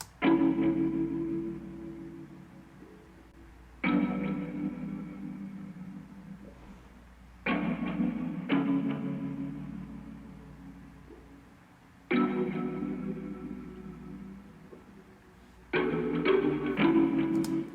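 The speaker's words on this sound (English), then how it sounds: "this is what the whole the main melody sounds like with those effects" A sampled main melody processed with EQ, a vintage effect and reverb plays as muffled, warm chords that strike in repeating phrases every few seconds and fade with a washy tail.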